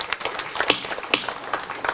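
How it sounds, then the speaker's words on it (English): Mourners at a memorial gathering clap together in a short burst of steady, dense group applause, heard at moderate loudness with sharper individual claps standing out. "Let's clap to God for this."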